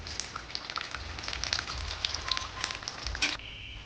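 Eggplant fritters and paneer pakoras fry in hot oil, giving a dense, steady crackle and spitting sizzle up close that cuts off abruptly near the end.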